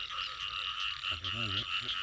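Frogs croak at night in the rain, a close croaking call in the middle and again near the end, over a steady bed of rain and insect-like buzzing.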